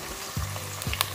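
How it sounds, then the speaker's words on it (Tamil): Onions fry with a bay leaf in a pan for chicken biryani, giving a brief close crackling sizzle with a couple of soft stirring touches. "ஸோ நல்லா வெங்காயம் பாருங்கள் குக் ஆகுது"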